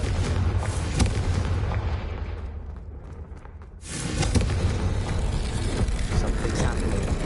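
Confringo explosion spells in Hogwarts Legacy, a long stretch of rumbling booms and blasts that dips into a brief quieter lull before a fresh loud burst of explosive rumble, dense and continuous.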